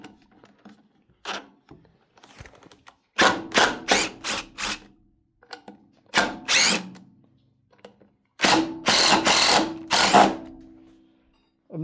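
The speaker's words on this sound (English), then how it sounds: "Let's pull some other screws out." A screwdriver bit driven by a power drill backs out stripped screws, with several bursts of whirring motor noise, each a second or two long, separated by quiet pauses, close and loud.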